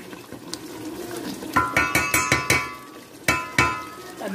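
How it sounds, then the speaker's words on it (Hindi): Masala frying in a pan for stuffed eggplant curry with chillies, a soft steady sizzle broken by a quick series of sharp metallic spoon knocks against the pan, fairly close. "देखिए माशाल्लाह हमारा मसाला भी बहुत अच्छे से भुन रहा है।"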